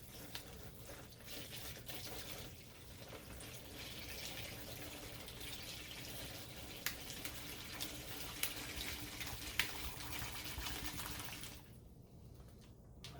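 Tap water runs steadily into a container being filled for a turkey brine of apple juice and bourbon, a continuous close rushing hiss that stops abruptly near the end, with no talking.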